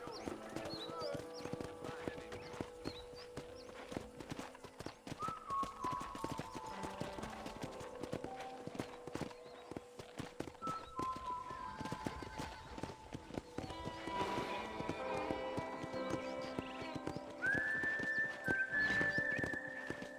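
Steady clip-clop of horse hooves at a walk in the video game Red Dead Redemption, mixed with game music and ambient tones, and a voice talking briefly.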